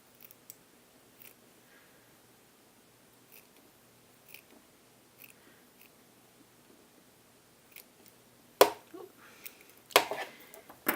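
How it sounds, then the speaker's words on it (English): Scissors trimming the fabric seam allowance of a blouse, faint sparse snips scattered through a quiet stretch, then a few louder, sharper cuts near the end, close by with no talking. "we now need to trim our seam allowance in half"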